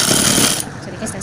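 A sewing machine runs a rapid burst of stitches down the centre seam of a kurti, a close, dense mechanical chatter that eases off slightly partway through.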